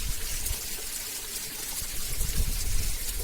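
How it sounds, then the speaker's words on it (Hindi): Stream of water flowing down from above along a mountain trail on the Kheerganga trek near Kasol, Himachal Pradesh, a steady close hiss of trickling and splashing water without a break. "ये देखिए यहाँ से आ रही है जल की धारा ऊपर से"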